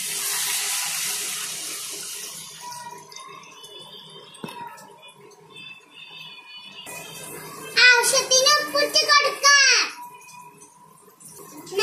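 A glass of water is poured into a pan for Kerala-style rava upma, a splashing gush that rises loudly near the end. Softer kitchen water noise and faint clinks come before it, and a voice is faintly present.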